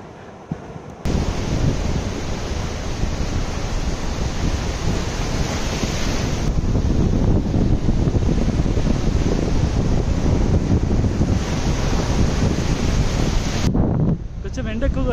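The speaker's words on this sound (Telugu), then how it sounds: "బీచ్ దగ్గరకు వస్తూ ఉంటే అసలు ఆ సౌండ్స్, వేవ్ సౌండ్ మామూలుగా లేదు అసలు." Ocean waves break on a sunny Konkan beach in Maharashtra, a loud, continuous rushing roar close by, with heavy wind buffeting the microphone throughout.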